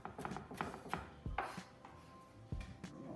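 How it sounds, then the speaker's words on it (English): A knife rough-chops onions on a cutting board for a potato salad, giving a quick run of close, crisp knocks that slows into a few heavier thuds, no voices. "I'm just gonna give these a rough chop"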